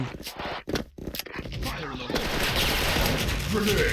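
Rapid bursts of automatic MP5 submachine gun fire in the game Special Force crackle over dense, busy noise, loud and continuous through the second half.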